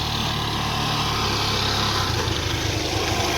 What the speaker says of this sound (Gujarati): આપણું નાનું મિની ટ્રેક્ટર છે મિત્રો